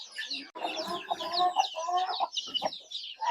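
Free-range country chickens cluck nearby while being fed and watered, a steady run of close, overlapping clucks and squawks with short pauses between bursts.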